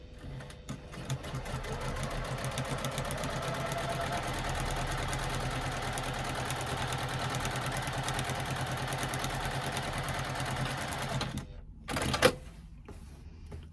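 Sewing machine running a steady, continuous stitch along a zipper pocket in a bag lining, a close mechanical whir for about eleven seconds before stopping, followed by a brief clunk and handling noise.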